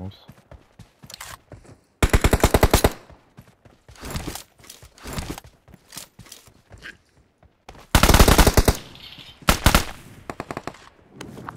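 Bursts of automatic gunfire in the mobile battle royale PUBG Mobile, loud rapid volleys around two and eight seconds with shorter shots scattered between, under occasional talk.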